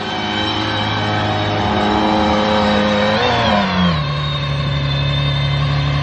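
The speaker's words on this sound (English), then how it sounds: "Not much cooler than the sound of a Valkyrie" An Aston Martin Valkyrie hypercar engine revs loudly and close, a dense high-pitched roar that climbs, peaks and then settles into a steady lower drone, with no talking.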